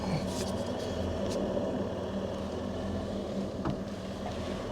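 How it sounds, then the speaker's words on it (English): Drivetrain of an off-road vehicle with RCV axles straining as it turns at full steering lock while backing up, a steady low rumbling drone with faint clicks, continuous and moderately loud, no talking. "right now you can hear the axles working a little bit hard"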